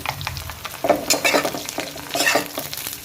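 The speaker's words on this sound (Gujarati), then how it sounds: "ધીમો ગેસ કરીને આને સરસ મિક્સ કરી લઈએ" Muthiya with sesame seeds are stirred in a pan over low heat, producing gentle sizzling and several scraping, rustling strokes of a spoon in quick succession, close up with no voices.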